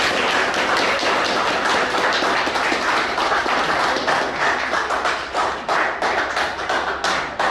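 Sustained applause from an audience at a school seminar, dense overlapping claps filling the whole stretch at steady loudness, tapering slightly toward the end.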